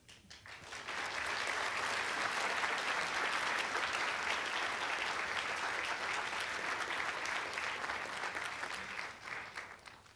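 An audience at a nursing pinning ceremony claps steadily, a sustained wash of many hands filling the room for about nine seconds before tapering off at the end.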